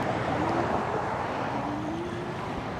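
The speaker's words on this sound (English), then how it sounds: "Oh my God, look at all this traffic." Steady broadband road noise of traffic passing close by, heard from an e-bike ridden along a busy road, with a faint rising engine tone drifting through; continuous and fairly loud throughout.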